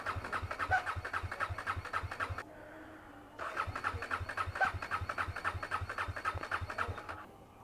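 A KTM Duke 250 motorcycle in cold weather turns over with a rapid rhythmic cranking, pauses for about a second, then cranks again and finally catches, loud and close with no talk.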